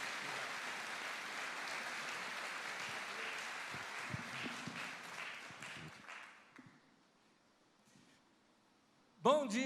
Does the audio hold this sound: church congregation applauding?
yes